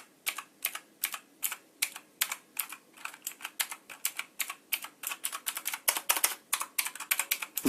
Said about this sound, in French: Vous entendez les touches, elles cliquent un peu